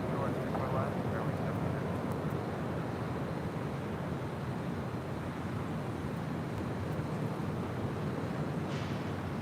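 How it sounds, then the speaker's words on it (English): A Sun Country Airlines Boeing 737-800 departs LAX bound for Minneapolis, its engines a broad, steady roar held throughout the clip. "Next departure, Sun Country Airlines, flight 426, heading to Minneapolis,"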